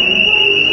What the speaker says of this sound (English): set the alarm on